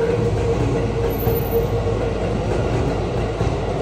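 A train to Toshima in Tokyo rumbles past steadily and fairly close on a rainy day, a continuous low roar with faint rail clatter and no voices.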